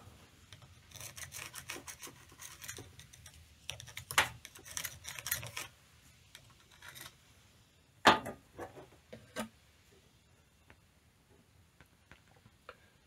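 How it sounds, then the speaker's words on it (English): Scissors snipping out a homemade gasket for a Ford 3000 tractor steering column, heard as close, intermittent rasping cuts and crinkles of gasket material, with a sharp louder snip midway and quieter scattered ticks afterward. "I'm going to just take and cut out this outside with some scissors."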